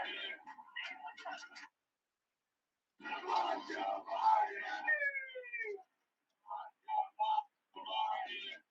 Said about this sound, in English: another F Pedo Joe chant in liberal Austin